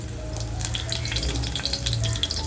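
Curry leaves and crushed garlic sizzling in hot oil for a Malwani bitter gourd curry, a steady close spitting crackle with bright popping bursts throughout.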